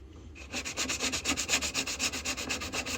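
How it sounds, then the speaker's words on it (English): Sandpaper rubs back and forth on a part of a homemade RC catamaran, a close, rhythmic scratchy swishing in quick even strokes. "I don't think you guys particularly want to sit there watch me sand."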